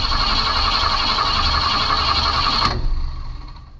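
A 1965 Ford Mustang engine cranking but failing to start on low battery voltage: a steady, loud whirring crank for nearly three seconds that cuts off abruptly and then fades.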